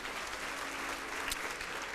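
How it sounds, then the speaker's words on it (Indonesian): Congregation clapping together in church, a dense, steady wash of applause held at an even level for the whole stretch with one sharper clap standing out near the end. "Beri tepuk tangan untuk Tuhan"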